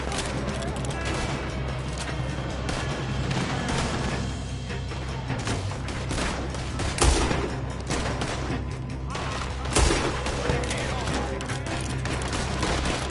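A shootout rages with continuous gunfire, a dense, loud wall of shots and a couple of heavier booms standing out over shouting voices.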